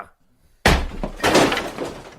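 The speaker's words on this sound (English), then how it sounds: "A low-pitched scream was then heard, followed by a smashing and rattling sound." A sudden loud smash bursts out of near silence, followed by a second crash and clattering, rattling debris, like breaking glass and objects tumbling.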